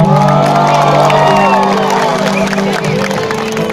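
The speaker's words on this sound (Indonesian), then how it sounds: "tepuk tangan dulu yang paling meriah buat kalian semua" A large outdoor concert crowd at Lapangan Ombilin in Sawahlunto applauds and cheers for the band, a loud continuous roar of clapping and shouts with sustained tones ringing underneath.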